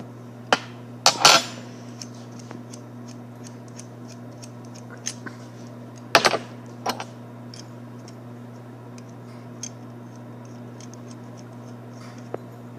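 A wrench swaps the cutting tip for a brazing tip on an oxy-acetylene cutting torch, making a few sharp metallic clicks and taps in short clusters, close and otherwise quiet over a steady low hum.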